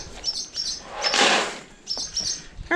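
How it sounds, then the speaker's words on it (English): A small bird on a farm gives a few quick, high chirps, close by, around a brief burst of fluttering or rustling. "And then there's that little bird."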